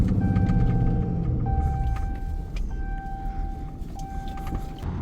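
A dump truck's engine labors while driving straight up a steep slope, a heavy low rumble under a steady whining tone that cuts in and out, loud and close throughout.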